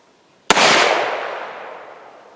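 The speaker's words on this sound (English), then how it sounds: "What I'm going to do first is I'm going to shoot the board." A single sharp gunshot fired into a board cracks loud and close, then decays into a long fading echo over about two seconds.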